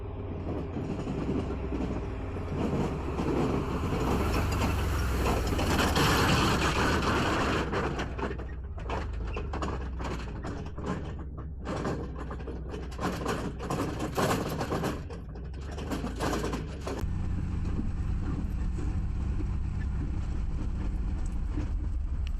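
A small trailer rattling and bouncing over rocks behind a 94-year-old car on a desert dirt trail, a continuous loud clattering and banging mixed with engine drone, steady throughout with bursts of harder knocks.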